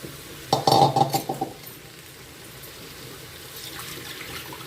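Desi chicken pieces drop into a dry, oil-free wok, making a short burst of clattering metallic clinks and scrapes for about a second, followed by quieter kitchen background.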